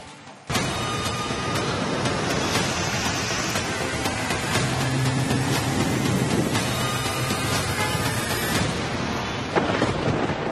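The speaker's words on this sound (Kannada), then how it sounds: "ಕಳೆದೊಂದು ವಾರದಿಂದ ಮಳೆ ಅಬ್ಬರ ಮುಗಿಯುವ ಲಕ್ಷಣಗಳು ಕಾಣ್ತಿಲ್ಲ" Heavy monsoon rain pours down in Dakshina Kannada with thunder, a loud, unbroken roar of downpour lasting throughout with no voices.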